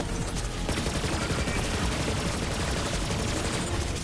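Rapid SMG fire in a Borderlands-style looter shooter with a Zane build, a dense, continuous loud crackle of shots filling the whole stretch without a break.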